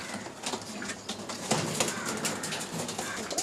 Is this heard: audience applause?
no